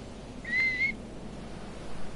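A single sharp whistle tone in the Fortnite video game, held for about half a second over a low steady background hum, with no talking.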